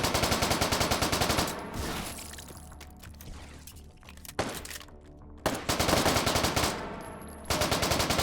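MAC submachine gun fired in a first-person video game, long rapid bursts of fast automatic shots, loud and close, broken by short pauses between sprays.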